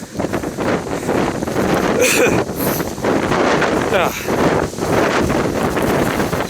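Strong gusting wind roars and buffets the microphone during a hike in heavy rain, sustained and loud with surging blasts, while a person talks over it.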